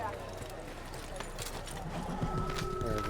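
Horse hooves clip-clop along at a run in Assassin's Creed, steady and moderately close, mixed with other game sounds and someone talking throughout.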